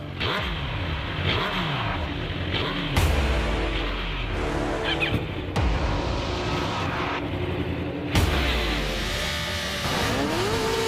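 Superbikes — a Kawasaki, Suzuki, Yamaha and Honda — roar off the start line of a race, engines revving hard with repeated rising gear-change sweeps, loud and close throughout.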